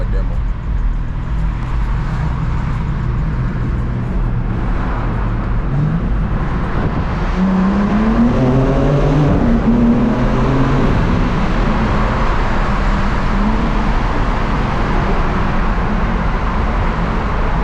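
A BMW M3 Competition drives along a road with traffic, a steady engine drone underneath, rising in pitch midway as it revs and accelerates, with road and wind noise throughout.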